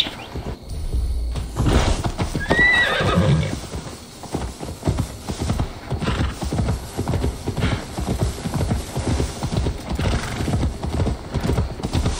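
Rhythmic horse hooves clop steadily across the clip in the video game Assassin's Creed Valhalla, with a brief whinny near the start, up close and fairly loud.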